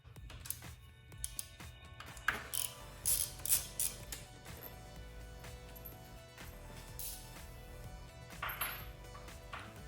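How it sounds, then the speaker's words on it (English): Quiet clicks, light plastic knocks and small rattles as the airbox is worked free and lifted out of a 2020 Kawasaki Z900 motorcycle, heard close up in short irregular bursts over a low background hum. "took the airbox out and then just tied it to the tank"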